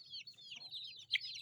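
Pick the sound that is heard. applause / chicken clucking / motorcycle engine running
chicken clucking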